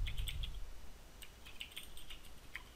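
Typing HTML code on a computer keyboard gives faint, light key taps in small irregular groups, quiet against a low background rumble.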